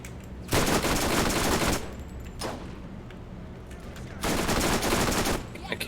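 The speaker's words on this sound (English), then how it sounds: "Let's check out his sniper rifle." Sniper rifle fire in the Borderlands video game: two long, loud bursts of blasting noise with a shorter, quieter burst between them, no voices.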